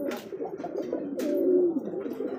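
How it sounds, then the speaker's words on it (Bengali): A Bombay pigeon gives a steady, close, deep throaty coo that rises and falls over a couple of seconds, with no talking. "একবার স্পষ্ট বোঝা যায়, বাক বাকুম করে ডাক দিতেছে"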